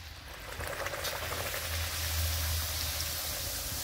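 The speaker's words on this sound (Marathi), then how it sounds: "तेल आपलं चांगलं कडकडीत गरम झालेलं आहे। आपण आता पुरी सोडू." Puris frying in very hot oil for a tomato puri recipe, giving a steady, dense sizzle and bubbling hiss that holds close and even throughout.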